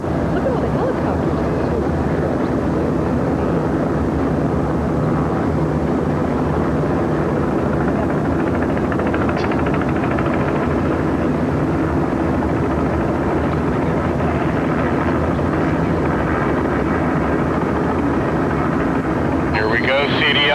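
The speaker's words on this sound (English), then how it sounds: "Look at all the helicopters." Helicopters circling over the Kingdome stadium in Seattle before its implosion in March 2000, a steady distant rotor drone filling the whole stretch beneath crowd noise and occasional voices.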